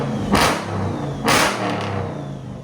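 Straight-piped HEMI-swapped AWD Chrysler 300 with a 6.4L SRT engine revving hard, two sharp loud throttle blips over a rumbling idle, close by with no talking.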